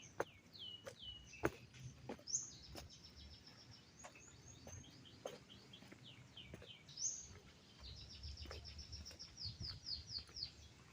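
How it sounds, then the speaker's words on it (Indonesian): Faint, distant birdsong with repeated chirping phrases, accompanied by scattered clicks and light footsteps in a quiet Chinese garden at Taman Mini Indonesia Indah, Jakarta. "Terdengar suara burung."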